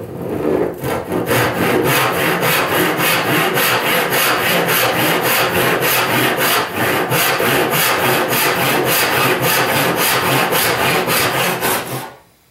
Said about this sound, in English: a cross-cut saw like this with bigger teeth, this one's about 8 or 9, is going to leave a rougher cut.